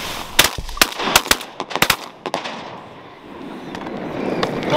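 Shotguns fire during a duck hunt in New Zealand's North Island, a rapid cluster of loud, sharp overlapping blasts from several guns in the first two seconds, then quieter outdoor ambience.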